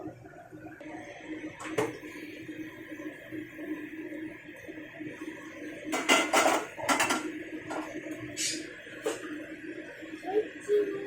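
Clattering of a metal lid set onto a pot of rui fish curry with bitter gourd, a few sharp clinks and scrapes bunched near the middle, over quiet kitchen background.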